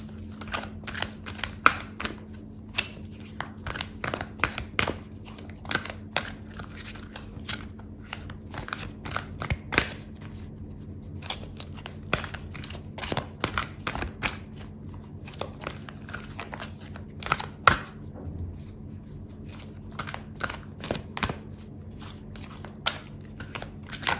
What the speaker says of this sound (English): I'm going to pull a card out for your advice